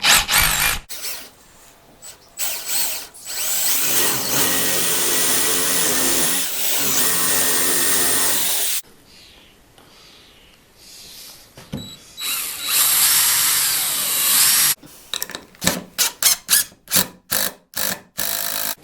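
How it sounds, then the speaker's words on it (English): A power drill bores holes into stone in loud whirring bursts, with long sustained runs early on, then pauses and a series of short rapid pulses near the end. "Now I just need to go drill some holes in the stone."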